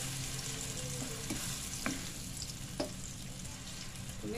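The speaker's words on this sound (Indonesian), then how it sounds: "Kita tumis bumbunya." Spice paste with tomatoes sautéing in a pan for a red snapper curry, a quiet continuous sizzle with a few brief scrapes of the stirring utensil, no voices present.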